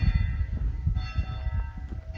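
A church bell rings at the old Incompiuta church in Italy, its tones sounding faint and distant through strong low wind rumble outdoors.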